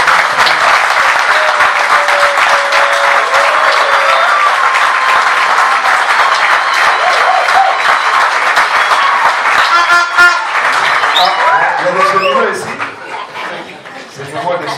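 Guests at a civil wedding ceremony in a town hall applaud loudly and continuously, with cheers and voices mixed in and a few shouts near the end as the clapping starts to thin.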